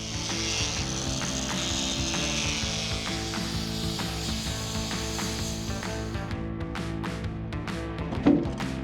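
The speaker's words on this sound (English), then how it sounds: "Time to get back to some corrosion grinding." A grinder works corrosion off the aluminum hull of a boat, giving a continuous, fairly faint rasping whine that thins out near the end and leaves a few scattered scrapes.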